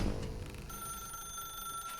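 A telephone rings in the video game The Stanley Parable, a bright electronic trill that sounds steadily and clearly with no talk over it.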